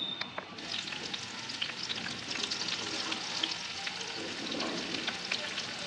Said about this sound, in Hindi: फिर हम इसका तड़का लगा देंगे।